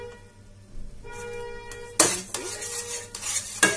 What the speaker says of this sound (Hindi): इसको चलाते रहेंगे, क्योंकि मीठा है, अगर हम इसको चलाएंगे नहीं तो नीचे से जलेगा।